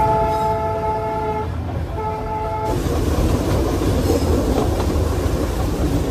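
Darjeeling Himalayan toy train on the NJP to Darjeeling mountain line gives a sustained horn toot in two blasts, then steady loud rumble and clatter of the running carriages close by.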